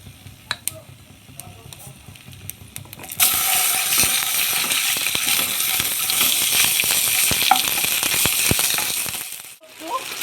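Chili, bay leaf and whole cumin hit hot oil at about three seconds and sizzle steadily and loudly, with small crackles and pops scattered through, after a few light clinks of utensils at the start.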